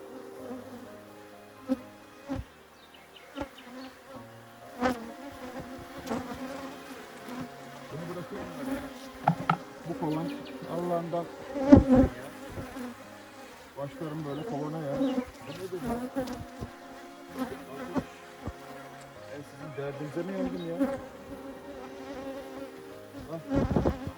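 Honey bees buzzing densely around an opened beehive, a close, continuous drone with individual bees flying past the microphone, along with scattered knocks and handling noises and brief bits of speech.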